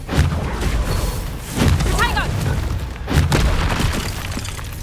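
A Bombarda spell goes off in the video game Hogwarts Legacy, with loud booming blasts and crashing impacts thudding in bursts, mixed with shouted combat voices.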